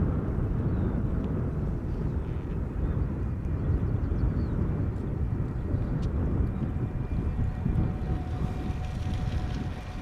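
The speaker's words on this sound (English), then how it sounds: "this is KLM flight 744 in the SkyTeam livery, 777-300ER arriving from Lima in Peru" A KLM Boeing 777-300ER in SkyTeam livery, arriving from Lima, rumbles steadily on approach to Schiphol, its deep continuous engine roar heard at a distance with some wind noise and no voices.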